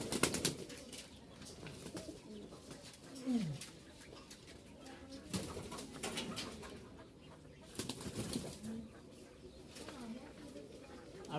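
Tumbler pigeons of the hand-flying type kept in Rajshahi coo in low throaty bursts and flap their wings in short flurries close by, heard under intermittent talk.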